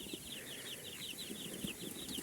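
Soft, repeated peeping and clucking from a group of young incubator-hatched chicks, steady and continuous at low volume with a faint hiss behind it.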